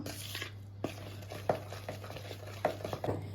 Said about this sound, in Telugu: ఇప్పుడు మనం చల్లించుకున్న పిండి మొత్తాన్ని ఇలా ఒకే డైరెక్షన్లో ఇలా కలుపుకోవాలండి.